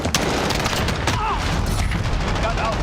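Video game gunfire in a military shooter: rapid cracks and bursts of shots, some in quick volleys, mixed with game effects, while a radio-style voice and a player talk over it.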